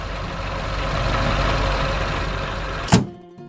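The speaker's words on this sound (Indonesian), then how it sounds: "Buket mesin ini sedang beraksi dengan sangat keras, menggali batu dan tanah di permukaan yang kasar" A machine bucket in an animated farm cartoon digs rock and soil on rough mountain ground, producing a steady loud mechanical rumble that ends in one sharp heavy thud before fading.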